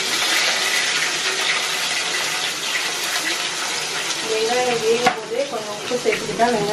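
Onions with curry leaves, mustard seeds and urad dal fry in hot oil for a village fish curry, giving a steady close sizzle; a voice briefly speaks near the end.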